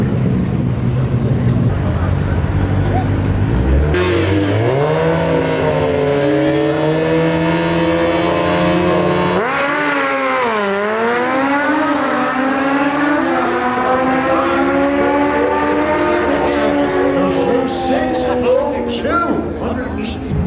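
Cars rev and accelerate hard at a drag strip, loud and close, with engine pitch climbing, dipping and climbing again through gear changes over a continuous roar. Voices are mixed in with the engine noise.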